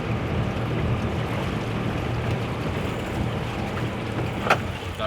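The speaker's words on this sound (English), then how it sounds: "sailing vessel Eva, exiting the marina." A sailboat motors out of the marina at Port Garvan, its engine drone blending with water wash and light wind in a constant, close, even roar.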